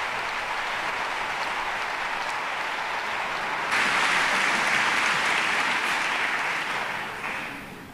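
A concert audience at a charity event in Cartagena gives strong applause to the musicians and a sopranist. The dense, sustained clapping swells louder about halfway through and then tapers off toward the end.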